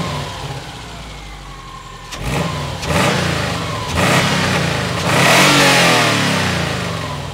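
A naturally aspirated 2010 Subaru Legacy 2.5 liter engine swapped into a 1983 Volkswagen Vanagon Westfalia camper revs up loud and close in several rising pulls from idle, each burst climbing higher before dropping back, with no talk over it.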